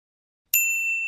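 A single bright phone message notification ding rings out after a moment of silence, a clear metallic chime that lingers and slowly fades, close and fairly loud.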